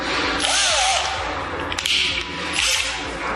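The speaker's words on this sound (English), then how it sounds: "I'm gonna use an electric screwdriver and set the torque index as 7 Newton meters" An electric screwdriver set to 7 newton meters driving bolts on a 280Ah LiFePO4 battery pack, loud whirring bursts in three runs with brief clicks between, close by.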